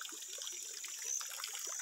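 Irrigation water pumped by a motor pump from a lake trickles steadily on a farm plot planted with maize, a faint, continuous, close dribble with no voices.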